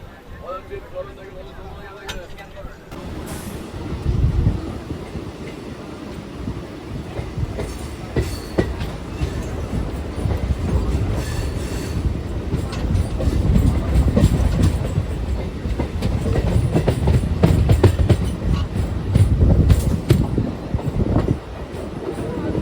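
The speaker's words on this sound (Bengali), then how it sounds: "ট্রেনটা ছেড়ে দিল কৈচুর হল থেকে" An EMU local train on the Barddhaman to Katwa line pulls away from Kaichar and runs on, its wheels rumbling and clattering louder as it gathers speed, close and continuous.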